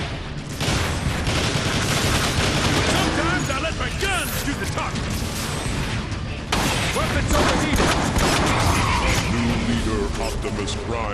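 Gunfire in a Transformers video game rattles in sustained bursts among heavy mechanical clatter and booming effects, loud and dense throughout.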